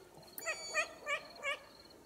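Young long-eared owls calling at dusk in front of a house: four short, faint, harmonic squeaky cries in quick succession, heard at a distance in quiet surroundings.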